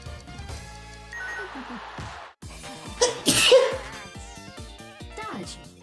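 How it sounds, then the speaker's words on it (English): A single sharp sneeze bursts out close and loud over bouncy, jingly game music with beeping sound effects playing throughout. "It was good I sneezed it there"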